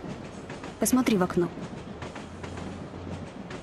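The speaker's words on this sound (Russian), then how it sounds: "Мы сейчас едем в поезде." A moving passenger train carries a low, steady rumble of wheels on the rails throughout, while a person speaks briefly over it near the start.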